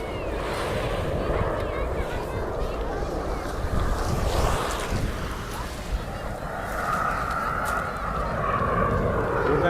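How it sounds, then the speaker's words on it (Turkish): Waves washing onto Konyaaltı beach in Antalya, a continuous rolling surf roar mixed with gusty wind noise on the microphone, with swells rising and falling throughout. "Neyse onlar gelene kadar dalga sesi dinleyin."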